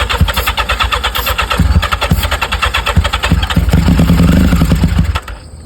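A 1985 Yamaha XJ700 motorcycle engine cranks and sputters under throttle, loud and close, in rapid rhythmic pulses for about five seconds before cutting off abruptly.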